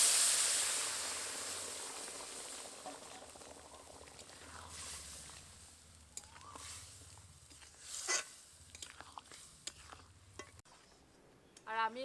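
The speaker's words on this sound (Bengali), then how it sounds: "এবার এর মধ্যে আগে থেকে তৈরি করে রাখা টেংরি আর ছোলার ডালের ঝোলটা দিয়ে দেবো।" Mutton leg and chana dal broth poured into a sizzling tempering, a loud hiss that fades into bubbling simmer with scattered stirring scrapes and clinks near the end.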